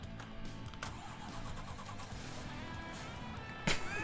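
A big tractor engine in the Farming Simulator 2019 game runs with a steady low drone, a sharp mechanical clunk near the end, no voices over it.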